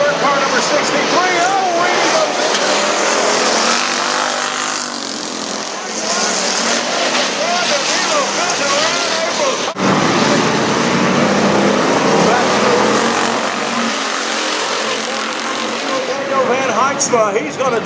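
Race cars circle an oval track, engines droning and sweeping up and down in pitch as they pass, loud and continuous, while an announcer calls the race over the noise.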